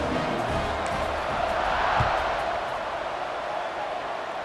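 A steady stadium crowd roars at kickoff in the EA Sports College Football 26 video game, a continuous wash of cheering that swells slightly midway without pause.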